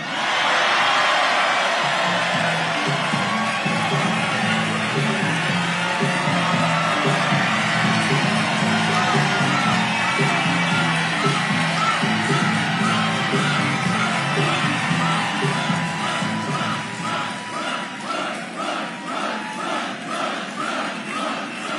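A big crowd at a Biden campaign rally in North Carolina cheers and yells in a loud, sustained roar that slowly eases into rhythmic clapping and chanting.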